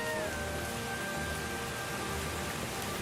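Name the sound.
heavy rain pouring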